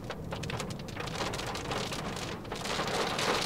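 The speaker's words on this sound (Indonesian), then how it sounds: "ini yang saya maksud dengan soal keberisikannya Honda Brio pas lagi hujan" Heavy rain drums steadily on the roof of a Honda Brio Satya E CVT as a thunderstorm builds, a dense loud patter filling the cabin without any talk.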